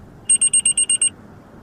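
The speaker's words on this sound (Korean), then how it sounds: "전방의 차량과 추돌을 하게 될 위기에 놓이면 경보를 해서 사용자에게 위험을 알려주는 겁니다" A car's forward collision warning sounds as a loud, rapid string of seven identical high electronic beeps in an even rhythm, then stops, with no talking.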